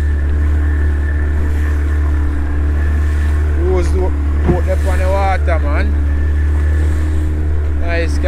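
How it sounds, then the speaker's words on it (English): Boat engine droning steadily on open water near a river mouth while trolling offshore, as a catamaran full of people passes; a constant low hum runs throughout, with people talking briefly in the middle. "Nice catamaran full of people here"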